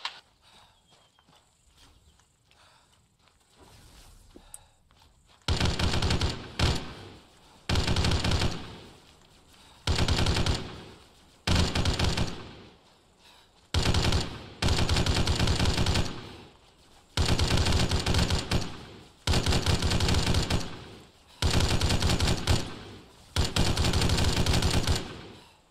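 Repeated bursts of automatic rifle fire crack out in an Arma 3 combat game, nine or so sustained volleys of a second or two each, loud and close, separated by short pauses after a quieter opening with no talk.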